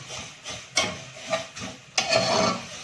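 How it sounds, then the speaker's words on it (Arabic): Rice stirred into toasted vermicelli in a pot, sautéing with a steady sizzling hiss broken by scraping stirs; louder bursts stand out near the start, the middle and at the end. "بعد كده نحط الرز هنديله تشويحه معاها"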